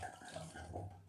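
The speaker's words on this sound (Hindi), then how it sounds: "अभी हम इसमें फूलकोबी को स्ट्रेन कर लेंगे" Water runs and splashes as boiled cauliflower is strained, a steady close-up wash of liquid pouring with faint gurgles and no talk.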